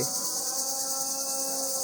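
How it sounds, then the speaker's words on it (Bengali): Many crickets in trees outdoors keep up a continuous high shrill chirring, steady and fairly loud, with no talk. "আকাশের দিকে অনেকগুলো ঝিঝি পোকা,"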